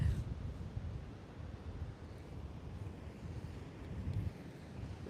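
Strong gusts batter a microphone on a sunny beach at Peguera, Mallorca, producing a continuous low roaring rumble that swells and dips, with faint surf behind it.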